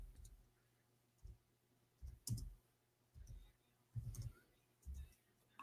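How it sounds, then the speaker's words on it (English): Keys clicking on a computer keyboard switched to English input, sounding in short separate bursts of a few taps with quiet gaps between them, close by and fairly soft. "I'm typing in English."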